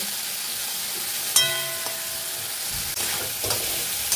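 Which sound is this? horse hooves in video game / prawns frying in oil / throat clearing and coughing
prawns frying in oil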